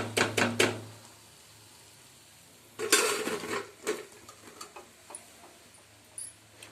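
Coconut kadubu frying in a pan, a soft background sizzle broken by a few sharp utensil clicks and scrapes, close and intermittent.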